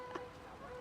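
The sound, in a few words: geese calling during mating season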